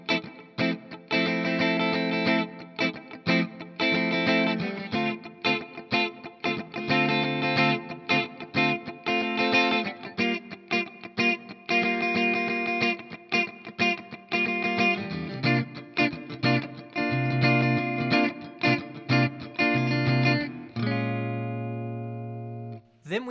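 Electric guitar with effects playing the chords behind the sax solo of a song: steady rhythmic strummed chord stabs with a chorus-like processed tone, running for over twenty seconds and ending on a sustained ringing chord.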